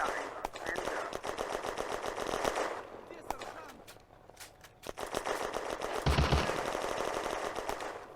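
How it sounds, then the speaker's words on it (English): Panzer III tanks in a WWII Eastern Front war game send out rapid bursts of machine-gun fire, loud and repeated, with a lull midway and heavier shots near the end. A voice speaks over parts of it. "To the north, the Panzer IIIs are putting down fire on the Soviets in the woods."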